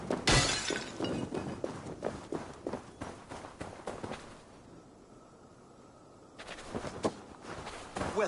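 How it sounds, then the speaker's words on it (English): Clay jars in a video game shatter one after another in quick, loud crashes mixed with running footsteps, pausing briefly in a quieter stretch before a final burst of breaking. "Well done. You've smashed all my jars."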